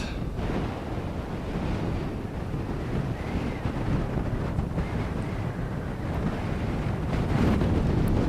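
Strong wind on the Tibetan plateau roars steadily across the microphone, a loud, unbroken gusty rush with no voices.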